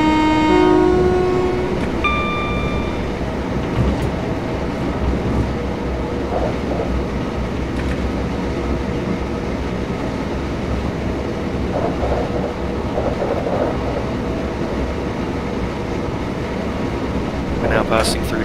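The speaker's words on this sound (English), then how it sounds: "We're now passing through Haywards Heath Tunnel" A train in Train Simulator 2015 on the London to Brighton route roars steadily through Haywards Heath Tunnel, with a dense, continuous rumble, a horn-like tone at the start and someone talking over it.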